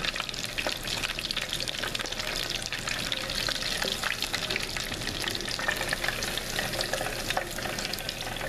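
Battered seafood bubbles and sizzles in hot frying oil, a steady dense crackle with scattered sharp pops running throughout, close and fairly loud with no voices.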